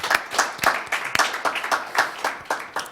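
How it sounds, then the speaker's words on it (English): Crisp, sharply separated claps from a modest audience applauding speaker Lance Price at an Asia program talk, fairly close and steady, with each hand strike distinct. "If you could join me for a round of applause for Lance Price."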